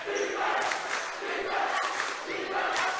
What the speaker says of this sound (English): As the chants of defense begin to be heard from the Greencastle crowd.